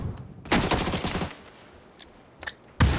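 Gunfire bursts from the PUBG battle-royale video game during a duo match, a loud volley near the start followed by scattered single shots and a sharp final report, with no talking.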